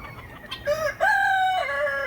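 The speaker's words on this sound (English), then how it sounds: "My little silky hen who had chicks" A silkie hen with her chicks gives drawn-out, tonal clucking calls, a few rising and falling notes close by and fairly loud, with no talking.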